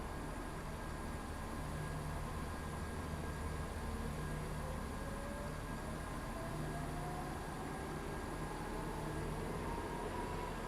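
A five-coach Class 170 train runs in the game SCR, a steady, unbroken rumble with a faint tonal hum that holds evenly at a constant level.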